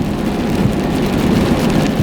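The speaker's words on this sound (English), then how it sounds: "Can you guys hear the rain?" Steady rain falls outside as an even, dense hiss with low rumble, continuous and fairly loud throughout with no breaks or voices.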